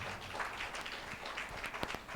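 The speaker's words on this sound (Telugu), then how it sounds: "చప్పట్లు కొడదాం ఒకసారి గట్టిగా" A church congregation clapping together during a sermon, a short burst of dense, rapid handclaps heard at a moderate distance with a few sharper individual claps standing out.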